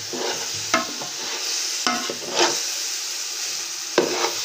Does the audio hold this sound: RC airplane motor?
no